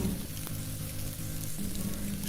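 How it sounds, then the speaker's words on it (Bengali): Fried cauliflower pieces hitting hot spice masala in a pan for cauliflower curry, giving a steady, close, loud sizzle with faint scraping of stirring and no voices. "ভেজে রাখা ফুলকপিগুলো দিয়ে দেব।"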